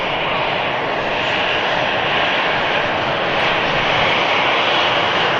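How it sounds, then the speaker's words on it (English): EasyJet airliner taxiing out at Manchester Airport: a loud, continuous jet engine roar and whine, steady and unbroken throughout, with no talking. "EasyJet then, taxiing out."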